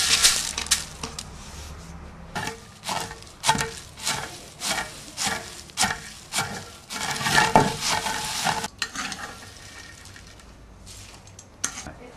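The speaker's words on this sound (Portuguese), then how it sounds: "Agora levamos ao pilão, que é para dar uma pequena quebrada no grão da amendoim." Peanuts are pounded in a wooden mortar (pilão) to crack the grains for making pé de moleque, a steady series of dull, crunching thuds roughly every half second, close and loud, with no talking.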